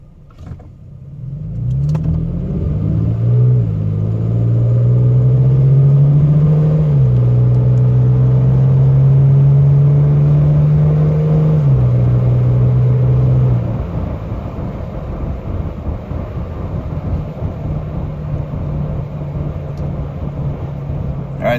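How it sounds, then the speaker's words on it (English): Inside the cab of a second-generation Toyota Tacoma TRD with a 4.0L engine and Gibson cat-back exhaust, a deep exhaust drone rises in pitch under moderate throttle, steps up through gear changes, then settles to a steady cruising rumble. "I'm going to go ahead and accelerate up to probably around 50 miles an hour"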